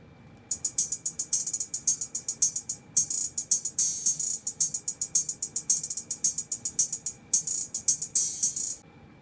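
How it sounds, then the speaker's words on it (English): A preset hi-hat pattern from an Ableton library plays alone as crisp, bright, rapid ticking in a steady rhythmic groove, with a few brief gaps between phrases. "So I found a preset hi-hat pattern that's in my Ableton library"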